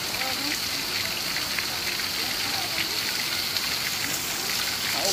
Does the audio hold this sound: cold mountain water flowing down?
yes